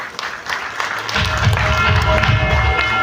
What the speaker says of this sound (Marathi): जोरदार टाळ्यांनी आपण त्यांचं स्वागत करूया